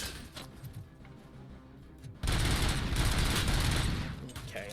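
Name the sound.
submachine gun fire in the video game Robocop: Rogue City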